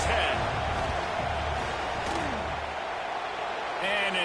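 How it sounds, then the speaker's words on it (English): Dense, steady roar of a football stadium crowd building during a field goal attempt, broad and distant-sounding, with faint voices and a brief swell near the end. "This crowd trying to do its part to get inside the kicker's head"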